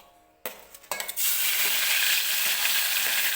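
Tomatoes go into hot oil for a mutton curry masala, a quiet clatter followed by a sudden loud, steady sizzle that carries on close and bright to the end.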